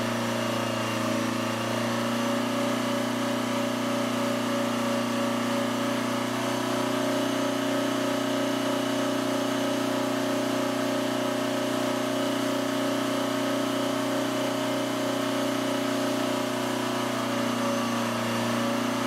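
A turbocharged Detroit Diesel 4-53T engine runs at a steady speed, giving a loud continuous drone with a strong low hum and a sustained whining overtone, unchanged throughout and without any voices.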